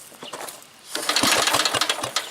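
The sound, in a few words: Manco small engine putting on a pull start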